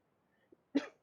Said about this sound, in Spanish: me agarró tos